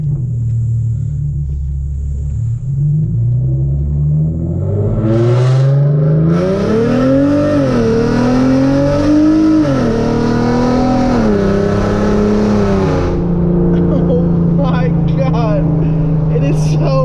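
A Genesis Coupe 3.8 with NGM headers accelerates through the gears, its loud exhaust droning and rising in pitch with each pull, heard from inside the car as the engine revs climb and settle.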